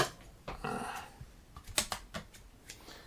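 Scissors snip and cut through action figure packaging in a string of short, sharp clicks and crinkles, close up and fairly quiet, with some plastic rustling between cuts.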